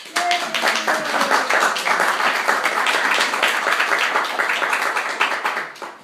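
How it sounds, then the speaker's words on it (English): A live vaudeville radio show audience gives a round of applause for a performer, many hands clapping with audible individual claps, steady for several seconds before tapering off at the end. "How about a round of applause"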